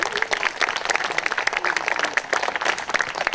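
Steady, dense applause from an audience at a May 18 memorial ceremony, many hands clapping continuously at moderate loudness.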